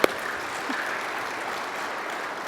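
Audience at a kidney care advocacy event applauding, a soft, steady patter of many hands heard from a distance, with one sharp knock at the very start.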